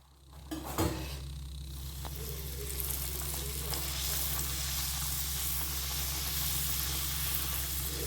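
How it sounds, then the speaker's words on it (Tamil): Puri frying in hot oil gives a steady, close sizzle and crackle, with a short clatter near the start as the dough goes into the pan, and no talk over it. "பூரி போட்டாச்சு அப்படியே புசு புசுன்னே நிற்கிது பாருங்கள் பூரி"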